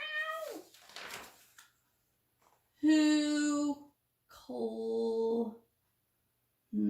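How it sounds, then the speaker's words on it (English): A frightened cat meows loudly a few times, long drawn-out wails close to the listener, separated by short silences, with a brief scuffling noise at the start. "Oh my, that cat is so scared."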